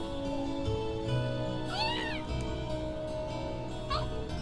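A cat on a rooftop in the video game Trails of Cold Steel lets out a bright meow, then a shorter, fainter mew a couple of seconds later, both over continuous game music.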